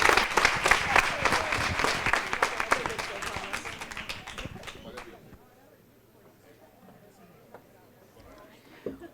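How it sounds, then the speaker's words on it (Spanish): Audience at an academic congress at a Colombian university applauding, a brisk round of clapping that fades over about five seconds into quiet room noise with faint background murmur. "Un aplauso para todos ustedes"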